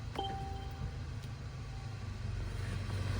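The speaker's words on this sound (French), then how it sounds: "là le moteur d'ailleurs s'est mis en route" A Mercedes GLC Coupé 350e hybrid starts and runs: a short chime rings at the start, then a low, steady engine hum continues, heard from inside the car without speech.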